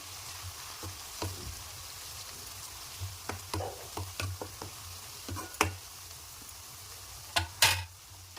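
Egg curry with turmeric being stirred in a pan, a spoon scraping and clacking in irregular strokes over a steady low sizzle of frying, close and fairly quiet with no talk.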